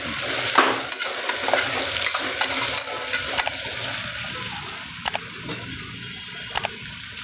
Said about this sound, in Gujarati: હવે બધું મિક્સ કરી લઈશું